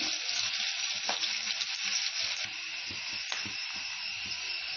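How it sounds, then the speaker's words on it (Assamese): Onions fry in hot oil in a pan over a lowered flame, giving a close, constant bright sizzle with a few faint stirring knocks underneath. "এতিয়া পিঁয়াজ দিছোঁ। পিঁয়াজখিনি অকণমান ৰঙা হোৱালৈকে ভাজি"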